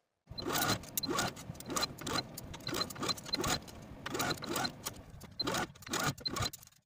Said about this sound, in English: take it to your sewing machine and sew all around the binding with a 3/8 inch seam allowance